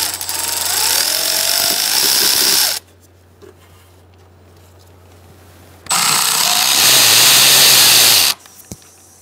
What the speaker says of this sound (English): I'm going to use a 13mm socket and a swivel, and I'm going to disconnect my AC lines.